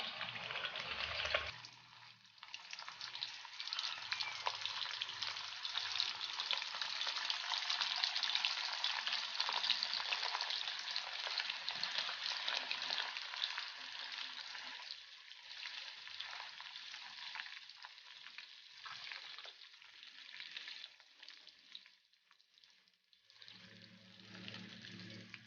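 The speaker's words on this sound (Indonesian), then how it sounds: "Sekarang kita masukkan daging sapinya ataupun dendengnya untuk kita goreng." Beef jerky (dendeng) frying in hot oil gives a steady, dense sizzle that lasts throughout. It starts with a brief clatter, eases slightly near the end and stays fairly faint, with no talk.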